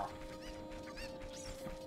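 A chicken in the video game Zelda Ocarina of Time clucks in a series of quick, nasal calls over a steady electronic tone, quiet and alone without talk.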